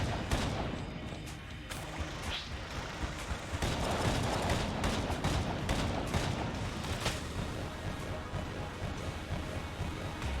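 Enemy gunfire in the bullet-hell video game Enter the Gungeon, a steady stream of overlapping shots and impacts that runs throughout, dense and busy at a moderate level with no talking.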